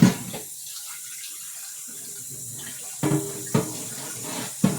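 Tap water runs into a soaking pan in a kitchen, a steady hiss and splash with a few sharp clunks and knocks near the end.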